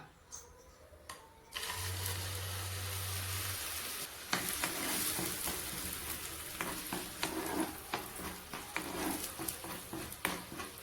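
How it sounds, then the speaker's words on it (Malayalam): Ground pineapple paste, blended with chilli and cumin, fries in a spoonful of oil in a pan for Kerala pineapple pachadi; after a quiet start and a low hum, a broad sizzle sets in with repeated spoon scrapes while stirring. "ഒരു പാനിലേക്ക് 1 സ്പൂൺ എണ്ണ ഒഴിച്ച് അരച്ച പൈനാപ്പിൾ ചേർത്ത് ഇളക്കാം."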